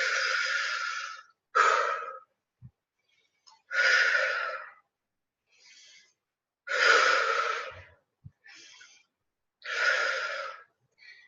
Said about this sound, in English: breathe deeply. Have a few deep breaths.